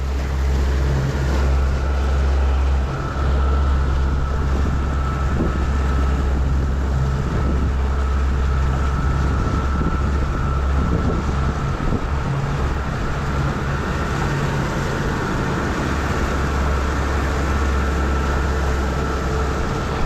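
Fishing boat motoring at trolling speed while towing a homemade teaser, a loud steady engine drone with wind buffeting the microphone and water rushing alongside, no talk.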